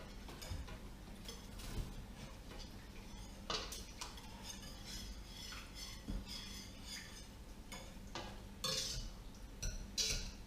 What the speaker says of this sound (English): I'm going to continue trying to mash this up a little bit.